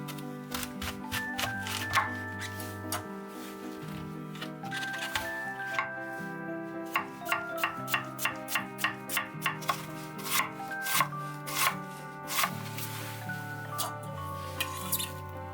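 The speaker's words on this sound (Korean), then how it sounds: "양배추 조림을 만들 적양배추를 채 썰어 준비합니다." A knife finely shreds red cabbage on a cutting board, giving a run of quick, crisp chopping taps that cluster into faster bursts toward the end, quiet and close, with soft background music underneath.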